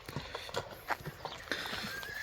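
A tall horse's hooves clip-clop close by in a few uneven, fairly sharp strikes over a quiet outdoor background.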